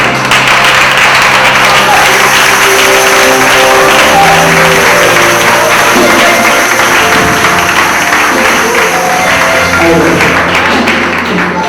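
A church congregation applauding in praise of the Lord, dense sustained clapping that stays loud throughout, with music and voices mixed in underneath.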